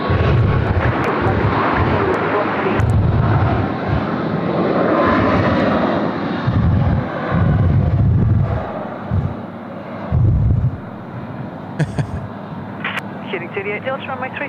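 A Boeing 737 MAX jet airliner takes off from runway 34 left at Sydney Airport with a loud, sustained engine roar that rises and fades, while a voice talks over it at intervals.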